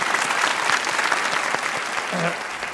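A studio audience at a Pakistani comedy talk show breaks into steady, dense applause that fills the room, with a voice briefly rising over the clapping near the end.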